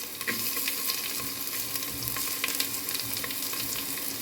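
Ginger and onion fry in a pan for a Mangalorean dish, giving a steady close-up sizzle with light stirring scrapes and crackles throughout and no voices.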